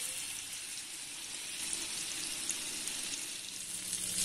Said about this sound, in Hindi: यहाँ एक पैन में तेल गरम कर लेंगे और तेल गरम होने के बाद हम इसके अंदर फिश के पीसेस डाल देंगे